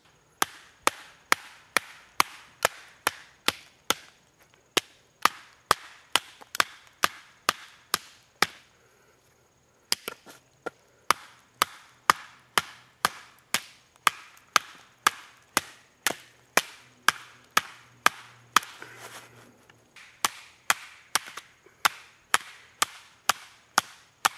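Blackfeather Blacklore Scandi knife being pounded through wood, a long steady series of sharp, close thwacks at a fairly even rhythm with a couple of brief pauses and no talk.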